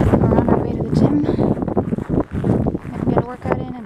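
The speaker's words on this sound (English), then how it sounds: "Sorry about the wind." Gusty outdoor wind buffets the microphone on a walk across a university campus toward the gym, a loud rumbling roar that rises and dips under a person talking.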